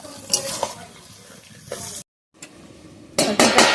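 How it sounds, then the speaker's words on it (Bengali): Kochur loti, taro stolons cooked with prawns, hisses in a pan after a little water goes in. Scraping and clanking of a utensil and lid are interrupted by a brief silent break before louder clattering bursts. "জলটা অল্পই দেবো, দিয়ে ঢাকা দেবো।"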